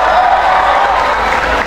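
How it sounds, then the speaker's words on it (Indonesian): Dense crowd applause and cheering at a Ramadan jazz festival held in a mosque courtyard in Menteng, Jakarta, loud and continuous with no gaps. "Mana tepuk tangan dan suara yang berada semua?"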